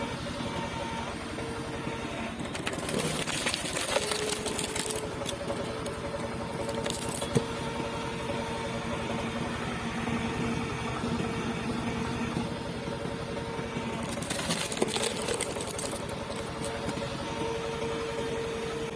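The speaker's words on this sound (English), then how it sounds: "The machine continues its rhythm, relentless, accurate, one push after another, one clean split at a time." A hydraulic wood splitter works through a tree trunk, an engine droning steadily throughout with a few brief louder bursts of cracking and mechanical strain as wood gives way.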